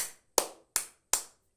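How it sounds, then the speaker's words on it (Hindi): Four sharp hand claps ring out alone in an even rhythm, each close and crisp with a short decay into silence. "ऐसे ताली मार रही थी"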